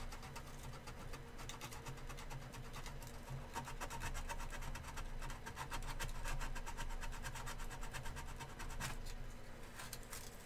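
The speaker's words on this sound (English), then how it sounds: "I don't like sanding inside of here" Wood being hand-sanded with steady, continuous scratchy strokes, close and fairly quiet, over a low hum of background noise.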